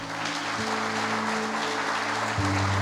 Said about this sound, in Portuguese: Vamos aplaudir Jesus pela vida dele.